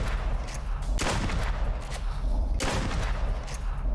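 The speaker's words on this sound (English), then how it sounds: "It's a fucking shotgun, it doesn't have a scope." Shotgun blasts in the duck-hunting game Duck Season, two loud booming shots spaced apart with a rumbling tail, close and dominant over a steady background.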